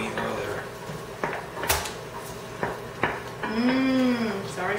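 A big wooden spoon stirs garlic and onions in a sizzling pan, with scattered knocks and scrapes against the pan and a brief voice near the end.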